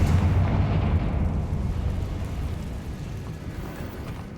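A Confringo blasting spell explodes in Hogwarts Legacy, a single loud, rumbling boom at the start that slowly decays into a long, low roar.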